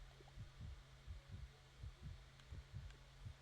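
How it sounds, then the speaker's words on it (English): A low-health heartbeat warning from the video game Duskfade thumps in steady soft double beats over a faint hum, quiet and evenly paced. "I do hear the heartbeat of the low health"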